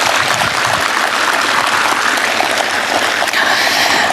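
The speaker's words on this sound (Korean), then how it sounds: "다시 한번 우창수, 김은희 그리고 개똥이 어린이예술단에 큰 박수 부탁드리겠습니다." Sustained, loud applause from the audience at a memorial event for President Roh Moo-hyun, honoring a children's art troupe, steady dense clapping throughout with no speech.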